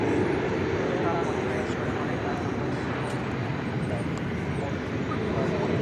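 An Airbus A321 departs on Flight 329 to Boise from Dallas Fort Worth Airport, its engines giving a steady, broad roar that holds evenly throughout at moderate distance.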